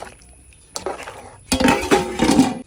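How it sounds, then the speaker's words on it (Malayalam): A spoon scrapes and clatters against a pot in a few vigorous bursts, stirring thick rice for chicken haneeth, loud and close. "ഇനി നന്നായിട്ട് ഇങ്ങോട്ട്"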